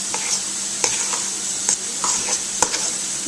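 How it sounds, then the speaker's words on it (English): Stuffed-shell filling being mixed together in a bowl, a continuous soft scraping and stirring with a few sharper clinks of the utensil, close and fairly loud, no voices. "So then you're just going to mix all this together"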